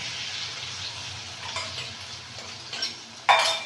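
Egg and eggplant are stirred as they fry in a pan, a low sizzle under scraping and clinking of a spatula against metal, ending with a sharper, louder scrape up close.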